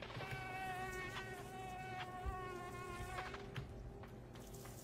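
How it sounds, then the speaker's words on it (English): A giant fly or mosquito in the video game Limbo buzzes with a steady, harmonic-rich drone, close and continuous for several seconds over a soft, dark ambient background. "You're a mosquito."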